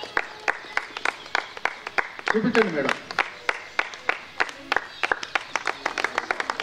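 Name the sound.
audience clapping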